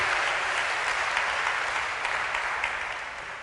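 A church congregation at a seminar service applauding, with sustained dense clapping from many hands filling the room, slowly fading toward the end.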